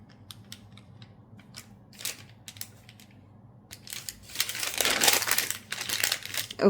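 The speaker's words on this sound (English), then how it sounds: "So fold it right along the center" Paper folded along its center while drafting a manual technical drawing, with close crinkling and crisp creasing that start sparse and grow into a denser, louder rustle toward the end. No one speaks.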